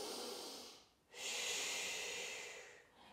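Slow, breathy exhalations and inhalations during an abdominal strengthening exercise, close and fairly quiet, with a short pause before a long, hissing breath.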